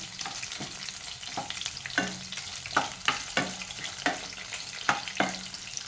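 Green chilli and chutney ingredients fry in a pan for an onion-tomato chutney. A soft continuous sizzle runs under repeated scraping strokes of a spatula against the pan, coming at an uneven rhythm and close to the listener.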